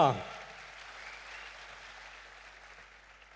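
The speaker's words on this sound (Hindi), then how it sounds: "अबरारुल हक के लिए भरपूर तालियां" Applause at a World Environment Day ceremony with Prime Minister Imran Khan, a soft, even spread of crowd clapping heard at a distance, with a brief voice at the very start before the clapping fades slowly.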